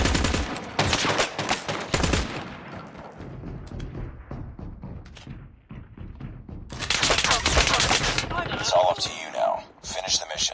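Gunfire in a military shooter game, a mix of loud rapid bursts and single cracks from several weapons, with shouted voices over the shooting and a second heavy barrage after a brief quieter gap.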